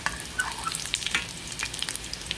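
Dungeness crab cakes sizzling in a pan just after being flipped, a close, crackling fry with scattered sharp pops and spits over a steady hiss, no voices.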